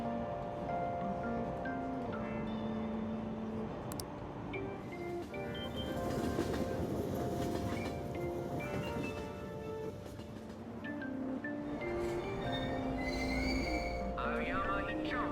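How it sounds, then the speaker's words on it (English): A Tokyo subway train in Persona 5 rumbles steadily along the rails, wheels squealing faintly, as it slows into Aoyama Itchome station; an automated announcement voice speaks over the continuous mechanical drone. "Train doors are now closing."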